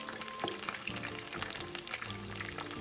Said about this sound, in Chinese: 一直油炸至肉片表面金黄色后，即可沥干油分取出。